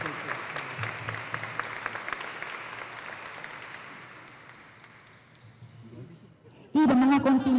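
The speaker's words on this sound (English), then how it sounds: "Round of applause, please." An audience at a Hispanic Heritage Month closing ceremony applauds, the full clatter of many hands gradually thinning and fading over several seconds before a voice begins speaking near the end.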